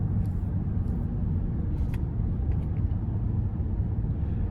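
A 2024 Honda Odyssey Elite minivan with a naturally aspirated 3.5-liter V6 cruises along, giving a steady low road rumble and engine hum inside the cabin, with a few faint ticks on top and no voices.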